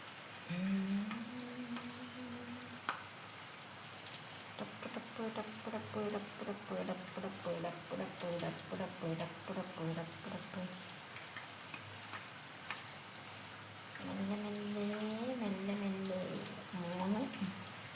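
Four pieces of bread and egg drop into hot oil and fry with a steady, crackling sizzle. A voice talks over much of it while the frying continues underneath.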